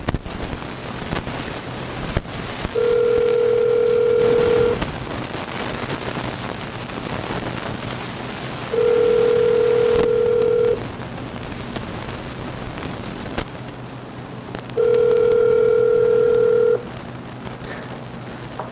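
A phone call's ringing tone sounds in three long steady beeps, each about two seconds long and evenly spaced, loud and near over a faint background hiss.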